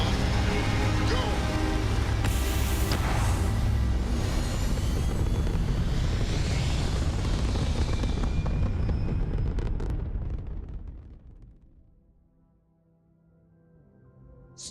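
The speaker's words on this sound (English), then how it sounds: "Ready for takeoff in 3, 2, 1, go!" A spaceship lifts off in the game Starfield with a heavy, rumbling thrust roar that builds loudly, then fades away to near silence over the last few seconds.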